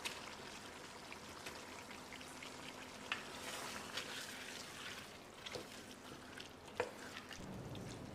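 Cleaned chicken pieces sizzle and fry in a pan for a chicken curry, a steady quiet hiss with occasional pops and crackles and no talking.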